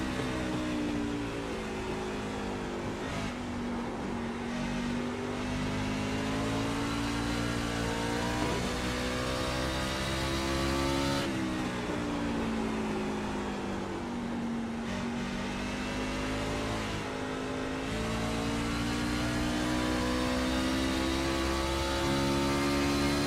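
A race truck's engine drones steadily through an onboard lap at the PRA Southeast 120 in the SimPulse Legacy Truck Series racing sim, its harmonic tones dipping and climbing with each gear and corner, loud and continuous with no talk.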